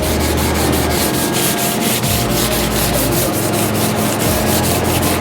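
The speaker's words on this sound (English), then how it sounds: "Using 220 grit sandpaper on it right now." Sandpaper of 220 grit rubbing steadily over a spoiler for a 1968 Firebird, a continuous close, loud scratchy rasp with a faint rhythmic back-and-forth pulse and no talking.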